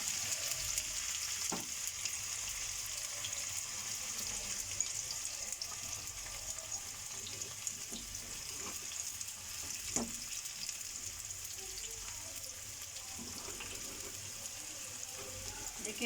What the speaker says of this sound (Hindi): अभी प्याज को थोड़ा सौते हो लेने देते हैं।